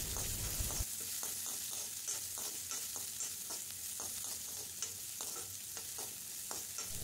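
Small chopped onions and a tempering fry in coconut oil, giving a soft, continuous sizzle with light stirring taps, quiet and close.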